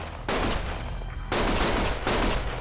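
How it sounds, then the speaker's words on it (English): Gunfire in Lost Judgment comes in three loud, dense bursts of rapid shots, each cutting off abruptly, with no talk over it. "Stop shooting!"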